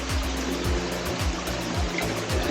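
A stream flows through the bottom of a canyon in Australia's Blue Mountains, water rushing steadily in a broad, continuous wash, with a faint low rhythmic thumping repeating underneath.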